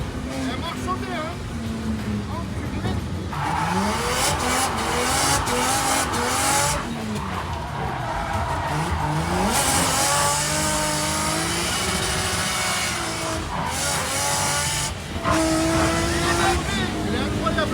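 BMW E30 drifting on a mountain road, engine revving hard and wavering as the car slides, with repeated tire squeals rising and falling, heard from inside the car, loud and continuous with some talk mixed in.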